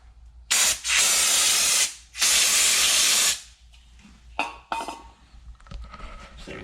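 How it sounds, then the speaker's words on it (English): Brake cleaner hisses from an aerosol can onto nitrile gloves in two long, loud bursts of about a second each, followed by faint handling clicks and rustles. "for this test we're going to be spraying this with brake clean and seeing how well they handle the chemicals"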